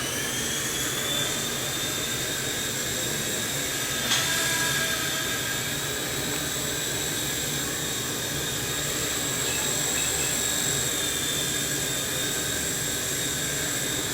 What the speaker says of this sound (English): we're going to go ahead and fly this